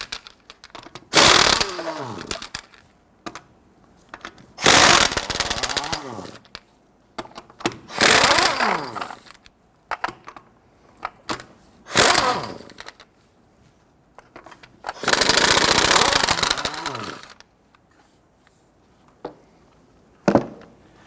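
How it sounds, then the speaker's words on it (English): Power impact tool loosening and removing the 21mm lug nuts on a Nissan Frontier wheel, heard as several loud, separate bursts of buzzing and ratcheting with short quiet gaps between them. "go ahead, loosen and remove your lug nuts"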